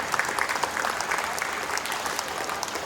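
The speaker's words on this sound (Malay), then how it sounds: "Ustaz nak minta satu tepukan gemuruh kepada kerajaan negeri Perak" Steady, dense applause from an audience at a religious heritage event in Perak, Malaysia, sustained evenly throughout with no voices rising above the clapping.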